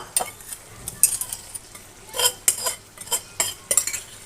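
Metal spoon scraping and clinking against a pan as gourd and shrimp curry is stirred, in irregular bursts of close clatter with a faint sizzle underneath and no talking.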